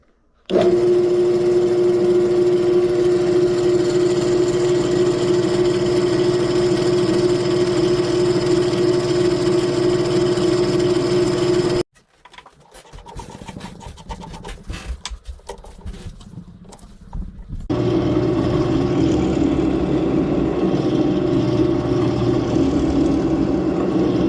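A Harbor Freight drill press motor runs with a steady, loud mechanical hum and whine, stops briefly partway through with some clattering handling noise, then starts up again and runs evenly to the end.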